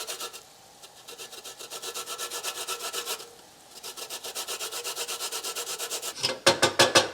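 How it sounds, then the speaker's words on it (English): A lemon rubbed briskly against a zester for a grilled red snapper dish, rhythmic close scraping strokes in two long runs separated by a short pause, ending with a few harder rasps. "Get the zest of the lemon going in here."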